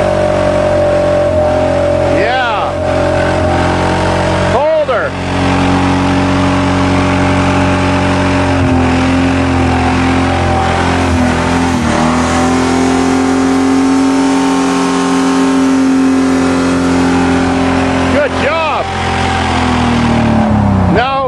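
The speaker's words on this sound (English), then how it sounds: "Still running really good. Give me lots of revs." A Ford Thunderbird engine is revved hard again and again, loud and close, its pitch climbing and dropping in repeated surges with no pause.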